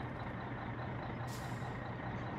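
Idling truck engine left running in the My Summer Car game, a low steady rumble with a brief hiss of air partway through, fairly faint and without talk.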